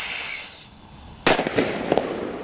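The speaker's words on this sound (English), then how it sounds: "Let me know what you guys think of this firecracker." A firecracker goes off with a sharp, loud bang and a thumping burst after a brief high whistle, followed by crackling debris and echo fading over a second.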